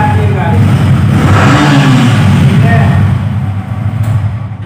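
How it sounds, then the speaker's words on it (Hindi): A second-hand motorcycle at a used bike dealer in Dhanbad is started and revved. Its close, loud engine roar swells and then eases slightly near the end, with someone talking over it. "गाड़ी स्टार्ट करके भी दिखा देंगे आपको"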